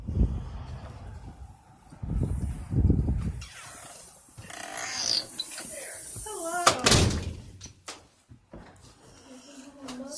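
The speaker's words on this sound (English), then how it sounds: "open the door" A door in a James Dean museum opens and closes with a wooden thud and mechanical rattle, following loud footsteps or handling noises and a brief voice, then quieter shuffling and creaks.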